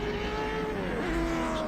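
Race cars, midget cars and Datsun 2000s racing around a circuit in Sydney, a continuous engine roar with a rising whine of revving passing cars, loud and close, with no talk.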